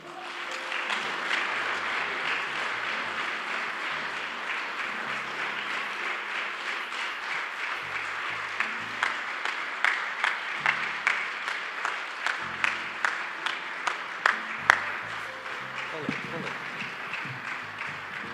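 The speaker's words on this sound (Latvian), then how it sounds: "Ar skaļiem aplausiem" Sustained audience applause at a volunteer award ceremony in Latvia, many hands clapping steadily for the full length, with a few sharper individual claps standing out near the end.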